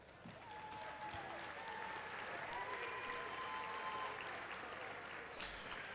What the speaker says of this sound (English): gets a round of applause as he comes off the court